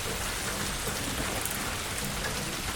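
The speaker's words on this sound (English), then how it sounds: "It's raining, it's pouring, oh man." Heavy rain pouring down steadily, a dense hiss of drops striking surfaces nearby with no voices.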